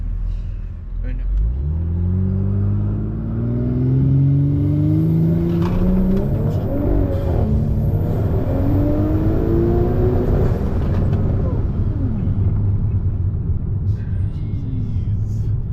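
An Audi B9 S4 drives off and accelerates, its engine note climbing in rising revs through several gear changes, loud and close, with a deep rumble underneath and people talking inside the car.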